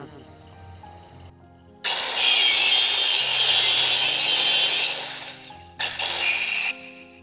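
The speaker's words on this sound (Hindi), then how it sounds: "अब इसके बाद हमें इस डाई की नॉब को आगे से घिस लेना है यहाँ से।" Filing down the knob of a ceiling fan master die: loud, steady rasping strokes over a few seconds, then a short pause and a final burst of filing, close to the microphone.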